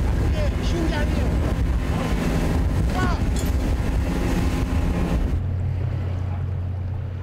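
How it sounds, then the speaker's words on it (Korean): A small boat pounds across rough sea near Dokdo, with wind buffeting and the churn of waves and engine roar, loud and close. Voices are heard over the noise before it quiets into a steady low drone. "삼봉호에선 잔잔한 줄 알았던 바다가 작은 보트를 타니 거친 속살을 드러내 보입니다"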